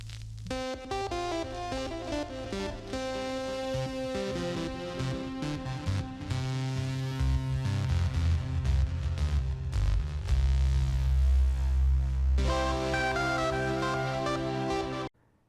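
A Minecraft 1.20 music disc plays in the game, a full melodic track with a deep bass line and layered tones running steadily for about fifteen seconds before stopping abruptly.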